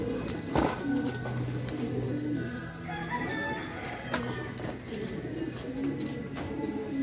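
Racing pigeons coo softly in a loft as checkered birds return home, with low repeated cooing, some wing flutters and clicks, and faint background talk.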